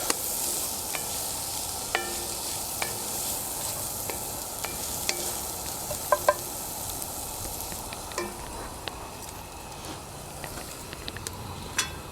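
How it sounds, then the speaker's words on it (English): Green beans with tomatoes and tasso are stirred in a pot, with a steady soft sizzle of cooking underneath and scattered light clicks and scrapes of the spoon against the pot. "We're going to give that a stir."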